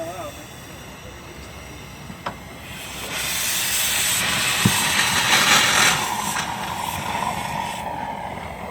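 A 1911 Stanley Model 62 steam car at the 2019 AACA Fall Meet starts up: a low background hum, a couple of sharp clicks, then loud broad steam hissing that swells in and stays strong.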